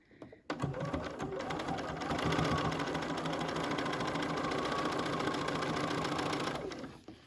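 A sewing machine stitches a tote bag gusset, running at a steady, fast, rattling pace for about six seconds after a brief quiet start, then stopping abruptly.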